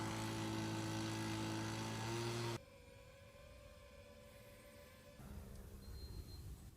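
A delivery drone flying overhead, a faint steady whirring hum with a thin tonal whine that shifts twice in pitch and loudness.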